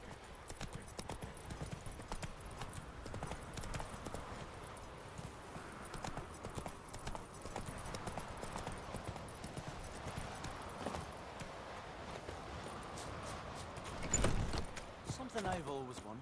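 Roach, Geralt's horse in The Witcher 3, gallops with steady rhythmic hoof clip-clops under continuous game ambience and occasional talk, with a louder thud near the end.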